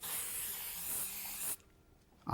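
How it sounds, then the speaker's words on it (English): Silicone saddle oil is sprayed onto a saddle in a steady aerosol hiss lasting about a second and a half, then cutting off, followed by a short faint noise. "You just spray a light coat on or a light coat on your rag."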